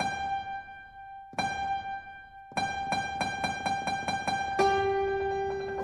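Synthesized music builds tension with a single repeated note, first sparse hits spaced apart, then quickening to a rapid pulse with a new sustained tone entering near the end; an accelerating ostinato with a frightening, heartbeat-like urgency.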